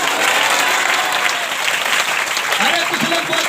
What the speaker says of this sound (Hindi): जोर से तालियां बजाकर बात करें।